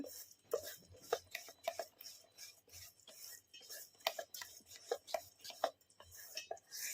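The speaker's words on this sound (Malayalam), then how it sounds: "ആദ്യം ഇങ്ങനെ അരിമാവ് ഒന്ന് നന്നായിട്ട് മിക്സ് ചെയ്യുകയാണ്" Rice flour batter being mixed by hand with grated coconut for Kerala vellayappam, a run of soft wet slaps and squelches in an irregular rhythm, close and fairly quiet, with no talking.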